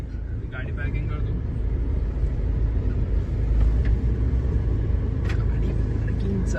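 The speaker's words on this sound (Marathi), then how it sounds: "गाडी पॅकिंग चालू आहे" A car rumbles at low revs as it is parked at a family naming-ceremony venue, a steady engine drone under continuous background noise.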